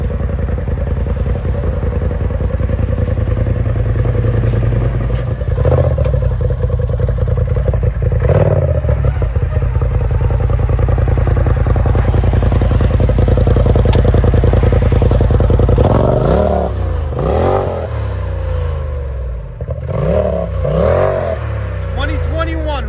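A 2021 Polaris RZR XP 1000 Turbo idles loud and close with a steady, rumbling engine note, then gives several quick throttle blips that rise and fall over the last few seconds.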